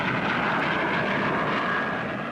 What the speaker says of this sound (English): Now the Flying Darts, Avro 707s, the fighters from which the Vulcan was developed, form up in escort.